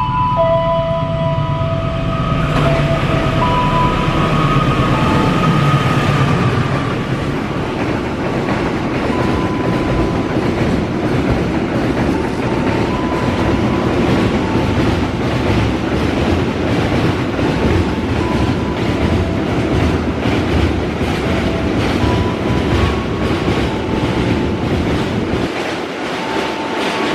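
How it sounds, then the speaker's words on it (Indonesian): A freight train carrying steel coil containers rolls past close by, a loud, steady rumble with rhythmic clickety-clack from the wheels over the rails and faint squeals, running unbroken with no talk. "Kereta kontainer baja koil ini."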